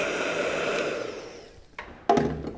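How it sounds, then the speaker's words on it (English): A heat gun blows hot air onto glue on a patch during an inflatable Hobie boat repair, a steady close airy whoosh that fades out, followed by a few handling knocks. "The heat gun really makes the glue pliable and really makes it want to stick."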